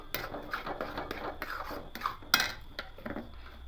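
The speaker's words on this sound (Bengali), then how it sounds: "এবার এখানে 1 চামচ ঘি দিয়ে দেবো। খুব ভালো করে মিশিয়ে দেবো," A spoon scrapes and clinks against a bowl while ghee is mixed into semolina soaked in milk, a close run of irregular scraping and tapping knocks over a quiet background.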